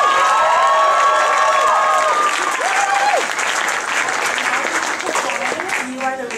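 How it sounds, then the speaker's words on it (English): A crowd applauds and cheers loudly for a Brooklyn women's a cappella group, with whoops and high shouts and whistles sliding over dense clapping that stays strong throughout. "Let's hear another round of applause for the ladies of Brooklyn."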